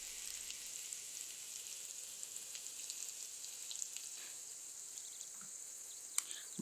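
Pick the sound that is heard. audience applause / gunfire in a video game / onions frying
onions frying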